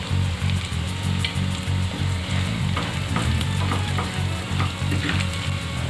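Chicken skin fries uncovered in a pan with steady crackling sizzle and occasional stirring scrapes, continuous and close, no voices.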